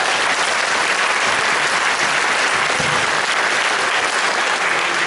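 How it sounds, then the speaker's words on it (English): A convention hall audience at a Game of Thrones fan panel breaks into steady, dense applause for Christian, loud and continuous throughout with no voices rising above it. "I feel like Christian deserves a round of applause."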